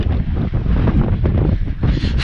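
Strong gusty wind buffets the microphone on a seaside stretch of the Sicilian coast near Mazara del Vallo, a loud low roar of irregular blasts with no voices.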